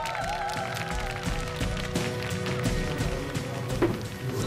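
Studio audience at a Korean singing competition giving a steady round of applause for two singers, dense clapping carrying across the whole stretch with a few scattered voices mixed in.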